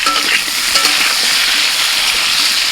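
Mixed vegetables for a Bengali shukto frying in a small amount of oil, a loud steady sizzle with stirring scrapes throughout, no voices.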